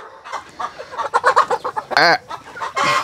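Chickens on a mountain farm cluck close by in quick, uneven bursts, with a couple of louder, drawn-out squawks standing out among the chatter.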